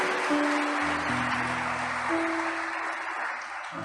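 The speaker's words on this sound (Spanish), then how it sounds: "Dale ese aplauso al Señor" A church congregation applauds together in a steady, dense wash of clapping, with organ or keyboard tones sustained underneath throughout.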